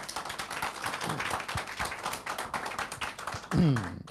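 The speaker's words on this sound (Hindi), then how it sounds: "जो यहाँ पे बैठे हैं एक बार प्रभु के लिए ताली बजा देंगे" A seated church congregation claps together in praise, a dense run of quick sharp hand claps lasting several seconds, with voices mixed in and a brief louder swell near the end.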